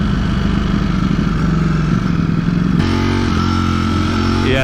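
A 2020 Ducati Streetfighter V4 engine idles and revs in race mode, a loud, close, rumbling throb that shifts pitch as the throttle changes, with no talking.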